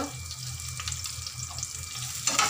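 Green chillies, garlic cloves, cumin, fennel and asafoetida sauté in hot oil in a pan, giving a steady low sizzle throughout with a brief sharper clatter near the end.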